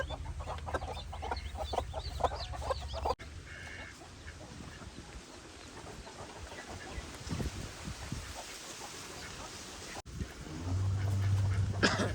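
Native country hens and a newly hatched chick cluck and cheep in short, repeated calls, fairly close, with some shuffling and handling noise in between.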